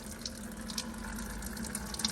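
Old coolant drains steadily from the radiator of a 3rd gen Toyota 4Runner, a faint continuous trickle and splash of liquid with a low steady hum underneath.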